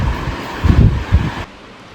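Ceiling fan running indoors, picked up by an iPhone 15 microphone as a close, steady whooshing hiss with gusty low rumbles that swell and fade before the sound drops off near the end.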